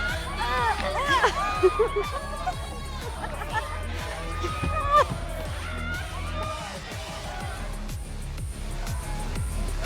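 Dense crowd noise in the video game Life is Strange Double Exposure, a continuous babble of many voices with scattered cheers and whoops, fairly loud and steady throughout with music-like tones layered over it.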